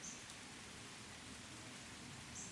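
Rain falls steadily outside as an even, faint hiss with no distinct drops or voices.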